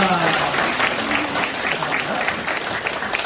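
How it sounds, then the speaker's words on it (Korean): Congregation at a New Year thanksgiving Sunday church service applauding the elders, loud sustained clapping from many hands, close and continuous throughout. "우리 장로님들 인사할 때 격려 박수!"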